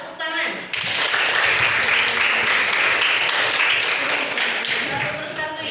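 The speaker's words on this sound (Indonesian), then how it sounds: "Tepuk tangan." Schoolchildren in a classroom clapping together, a dense burst of applause that starts abruptly, holds steady for several seconds and then fades, with some voices mixed in.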